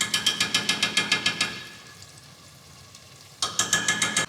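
Red onions fry in a pan for Nigerian jollof rice, with a steady sizzle broken by bursts of fast, rhythmic scraping as a utensil stirs them, a pause, then more stirring.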